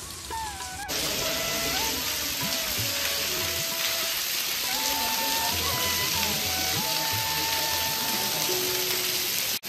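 Heavy rain pours steadily over the old stone temple at Melukote, with water running off its carved pillared hall. A dense, unbroken hiss holds at even loudness from start to finish.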